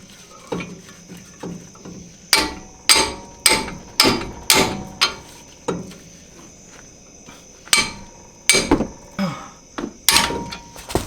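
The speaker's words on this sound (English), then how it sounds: "Grab you a big hammer, hold that on there nice and tight," A big hammer whacks on a 2001 Ford F-150 during a brake job, about a dozen sharp metallic blows in uneven bursts, close and loud over a quiet background.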